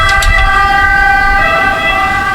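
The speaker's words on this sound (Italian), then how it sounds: "Sta passando l'ambulanza," An ambulance siren passes close by on a road in Sicily, a loud, steady multi-tone wail holding throughout with traffic rumble underneath.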